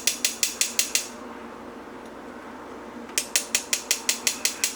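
A hand-cranked sifter working dry ingredients for a vegan carrot cake: rapid, evenly spaced mechanical clicks in two bursts separated by a short quieter pause, close and crisp.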